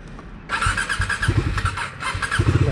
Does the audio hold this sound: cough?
no